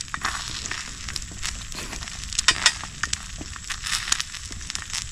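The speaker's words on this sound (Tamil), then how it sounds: "வெந்துக்கிட்டு இருக்கு நண்பர்களே முட்டை." Egg omelette frying in a pan over a camp stove at a night forest campsite, with steady close crackling and sizzling plus scattered sharper pops throughout.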